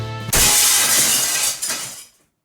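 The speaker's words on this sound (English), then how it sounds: "The chandelier crashed to the floor in full force, making a tremendous noise." A chandelier crashing down in Limbus Company, one sudden loud burst of shattering glass that rings with tinkling debris for about two seconds before cutting to silence.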